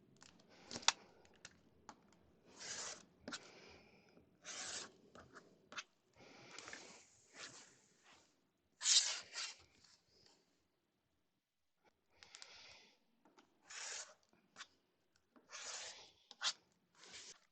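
Fabric for a beginner quilt block being trimmed around its second round with a trim tool: close, irregular scraping and cutting strokes in quick clusters, with a short pause midway and no talking.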